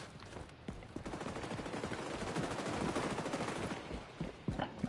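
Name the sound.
gunfire in the video game XDefiant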